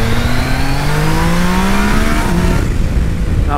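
A Yamaha Niken three-wheeled motorcycle rides past loudly, its engine revving and climbing in pitch before easing off, close and continuous with no talking.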